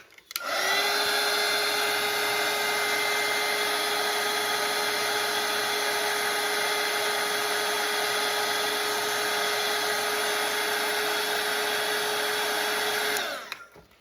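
A hair dryer blows steadily on a watercolor painting, a loud, even whine that switches on, holds for about thirteen seconds, then cuts off.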